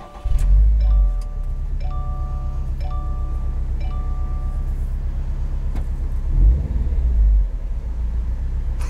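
The 2.5-liter boxer four-cylinder engine of a 2021 Subaru WRX STI Limited drones at a steady rumble, with a deeper surge near the end and a faint repeating chime over it.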